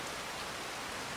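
Steady rain pours in the farming game Farming Simulator 25, a dense, uniform hiss filling the whole stretch with no talk.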